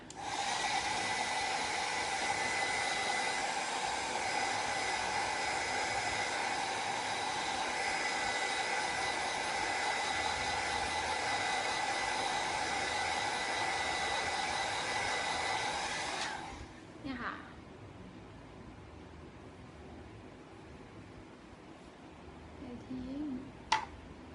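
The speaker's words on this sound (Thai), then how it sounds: "เป่าให้แห้งนะคะ" A hair dryer blows loud and steady, drying fabric after a test of a TenLuxe B1 spray cleaning gun. It cuts off after about sixteen seconds, leaving near silence with a few faint clicks and handling sounds.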